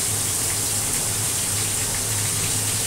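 Vegetables hit a hot pan and set off a loud, dense, steady sizzle, a continuous broad hiss like heavy rain with no pauses.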